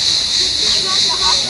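Kebab grills outdoors at a campsite in Alanya, Turkey, giving off a steady, close sizzling hiss that holds without a break through the short moment.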